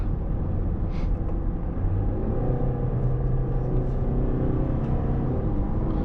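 Engine of a 2024 Range Rover Evoque with a nine-speed automatic gearbox, heard from inside the car as a smooth, steady low rumble with road noise while driving, loud and continuous with no talk.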